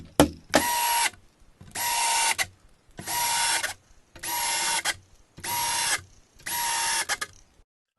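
A power screwdriver drives screws into a Sela CaSela cajon kit in six close, loud bursts of whirring, each lasting under a second with short pauses between.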